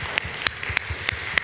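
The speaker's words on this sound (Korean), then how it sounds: "하나님께 감사의 박수 올려드리겠습니다" Claps ring out in a church after a youth worship service. A handful of distinct, evenly spaced sharp claps sound over a quiet room hum rather than a full dense ovation.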